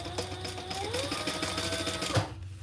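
A sewing machine runs a short burst of top stitching, a fast even chatter of needle strokes close by that stops abruptly near the end.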